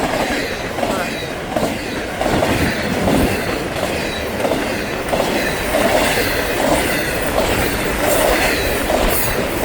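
A Florida East Coast Railway freight train of well cars and trailers rolls past close by, a loud continuous rumble with rhythmic clickety-clack of wheels over rail joints and occasional squeal.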